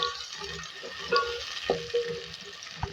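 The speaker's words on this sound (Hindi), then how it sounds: "थोड़ा सा धनिया भी काट के डालेंगे इसके अंदर और फ्राई करेंगे" Chopped onions and green chillies fry quietly in a pan for an aloo palak dish, a faint steady sizzle broken by a few light spoon clinks and stirring scrapes.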